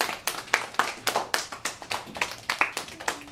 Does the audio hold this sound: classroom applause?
yes